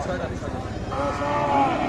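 A cow moos at a busy village cattle market where cows and calves are being traded, a long low call sounding over crowd chatter and nearby voices.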